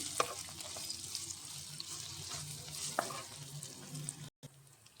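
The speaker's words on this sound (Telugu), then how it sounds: "ఎల్లిపాయ పేస్ట్ అలాగే అల్లం వెల్లుల్లి పేస్ట్ని అయితే యాడ్ చేసుకొని మంచిగా స్మెల్ అయితే పోయే వరకు ఆయిల్లో అయితే వేగనివ్వాలి" Onion paste and ginger-garlic paste fry in oil for a snake gourd curry, giving a soft, continuous sizzle with occasional faint stirring clicks. The sound stays fairly quiet and cuts out briefly near the end.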